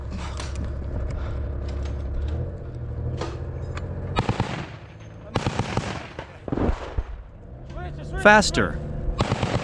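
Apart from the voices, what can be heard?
machine gun fire in combat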